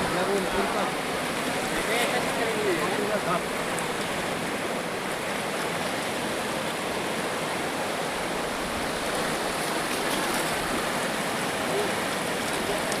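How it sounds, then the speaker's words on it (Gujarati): A steady, heavy rush of a river in flood after heavy rain at Sedarda village, Mahuva taluka, fills the whole scene, constant and loud, with faint voices now and then beneath it. "હા જો આ નદી"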